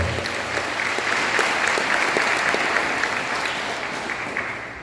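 Crowd applause at a council of indigenous elders, a dense continuous clapping that holds steady and fades slightly at the end, fairly close and loud.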